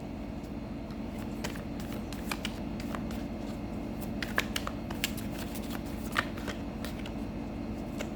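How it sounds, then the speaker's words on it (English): Tarot cards are shuffled by hand: continuous soft riffling and sliding with scattered sharper flicks and taps, close and quiet, running steadily for several seconds without talk. "Let's pull out some tarot cards for you."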